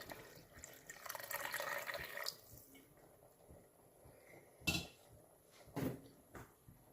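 Coconut milk poured into a pot of duck biryani; a faint, brief liquid pour lasting about a second in a quiet kitchen, followed by a couple of small clinks.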